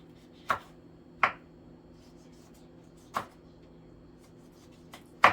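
Knife chopping sweet peppers into tiny pieces on a cutting board for mango salsa, four sharp, isolated knocks spaced irregularly a second or two apart, close and clear against a faint steady hum.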